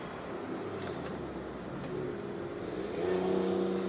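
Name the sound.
2022 Proton Saga car driving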